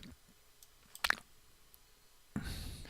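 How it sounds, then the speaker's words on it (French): A quiet mouse click on a website link, a single sharp tick in a near-silent room followed by a soft burst of computer or room noise. "on clique là-dessus, plan du site."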